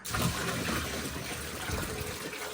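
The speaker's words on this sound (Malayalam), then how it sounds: "നമ്മുടെ ലാസ്റ്റ് ബക്കറ്റ് വെള്ളമായിട്ട് അമൽ വരുന്നുണ്ട് ഇതും കൂടെ ഒഴിച്ചു കഴിഞ്ഞാൽ നമ്മുടെ പൈപ്പിൻ്റെ മേളിൽ വരും" A bucket of water is poured into the pipe of a fishing boat being rebuilt, a steady rushing gush that lasts for the whole moment at an even, moderate level.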